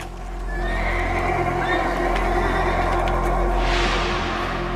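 Horses whinny loudly and nearby in an outdoor setting, with a long neigh followed by a second rising call, over a steady low background rumble.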